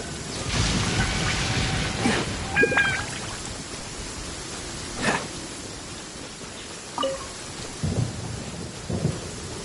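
Steady rain with rolling thunder in the Genshin Impact video game, a constant wash of rainfall broken by several low rumbling thunder bursts and a few faint chiming game effects.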